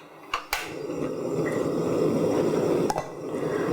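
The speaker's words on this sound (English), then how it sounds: "And now I'm going to add the water." Water pours into a pot for an Indonesian clear vegetable soup with moringa, spinach and corn: a few light clinks, then a steady close rushing splash that grows fuller as the pot fills.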